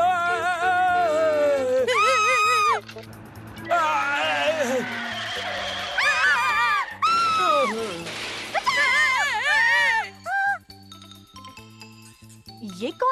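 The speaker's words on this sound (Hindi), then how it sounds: "ये कौन चिल्ला रहा है?" A cartoon character in a Hindi-dubbed Ninja Hattori episode screams in long, wavering, high-pitched bursts over a busy soundtrack of music and sound effects, with short pauses between outbursts.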